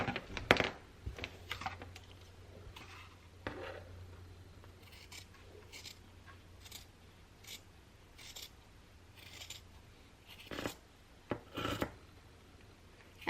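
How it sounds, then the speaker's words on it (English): Scissors snip through a strip of felt with several brief, crisp cuts in a quiet room, spaced irregularly with soft rustling between them. "I'm going to go ahead and cut my strip"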